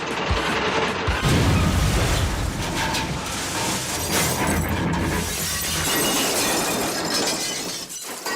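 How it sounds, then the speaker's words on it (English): Freight cars smash to pieces in a train crash, heard as a continuous loud clatter of crashing, shattering and rattling debris that fills the whole stretch without pause. "The freight cars were smashed to pieces."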